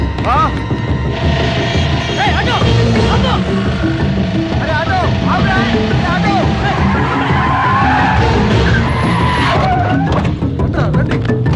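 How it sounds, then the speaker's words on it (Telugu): An auto rickshaw pulls away in a comedy film scene, its loud, continuous engine drone filling the whole stretch with some tire noise, while voices talk over it. "ఏంటనే సుబ్బలక్ష్మి ఆటో వెళ్ళిపోతుంది."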